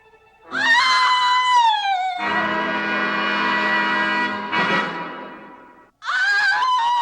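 A woman's scream rises sharply, breaks off, then resumes with a second loud, sustained cry, close and intense, in a dark gothic soap-opera scene.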